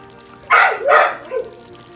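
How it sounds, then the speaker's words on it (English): A dog barks twice in quick succession, loud and close, followed by a softer yip in a kitchen. "Sorry about the dog, guys."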